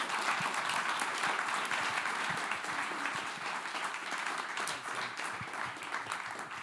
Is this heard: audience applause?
yes